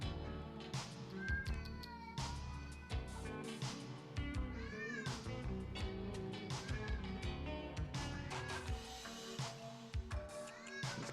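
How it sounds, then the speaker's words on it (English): A cat yowls and meows loudly and insistently, close by, in a string of long drawn-out cries with a few shorter calls between them, with no talking. "This cat is just like screaming for some reason"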